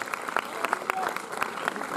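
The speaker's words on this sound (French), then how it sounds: "on peut l'applaudir" An audience in a cinema applauds at an evening screening and debate, a dense, continuous patter of clapping heard fairly close throughout.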